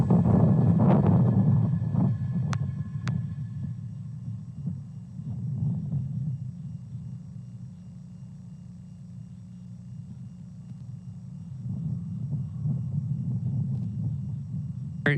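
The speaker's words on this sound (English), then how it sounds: "successful liftoff of Falcon 9 from Space Launch Complex 4 East at Vandenberg" A SpaceX Falcon 9 rocket lifting off from Space Launch Complex 4 East at Vandenberg with a Starlink batch gives a deep, continuous low rumble, moderately faint and distant, swelling slightly at the start and end.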